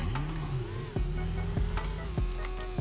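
A new car driven in the Roblox game Jailbreak, its engine droning steadily with pitch swells and repeated gear-shift drops, close and continuous with no talking.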